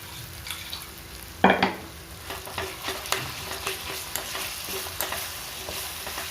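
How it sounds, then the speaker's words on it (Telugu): A constant oily sizzle with a spoon scraping and stirring through the pan in a steady rhythm, opening with a louder clatter. "పచ్చడి వేసి పోపులో కలిపేసుకుంటున్నాము."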